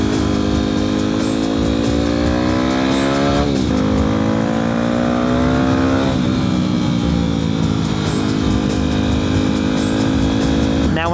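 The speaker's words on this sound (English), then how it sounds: "the FMF exhaust is loud" Yamaha WR250R motorcycle engine with an FMF exhaust, loud and close, revving repeatedly with rising and falling pitch sweeps and a buzzy harmonic tone between blips.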